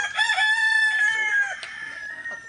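Sweater Kelso gamefowl rooster, a cross with an RDA line, lets out one long crow held for over a second, loud and close, then tapering into softer trailing notes.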